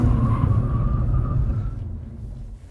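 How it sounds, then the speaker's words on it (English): A refreshed 2023 BMW M340i with its B58 turbocharged inline-six gives a deep, steady engine rumble from inside the car, fairly loud, easing slightly toward the end with no talking. "Still sounds good, still an inline six. It's B58, everybody loves it."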